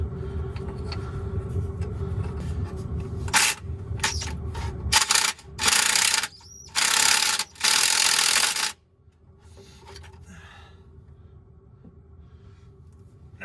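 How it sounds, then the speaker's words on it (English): Small DeWalt impact driver working on a 6V92 diesel exhaust manifold, several short loud bursts of rapid hammering separated by pauses, close by over a low background hum. "This is only a this is a little DeWalt impact."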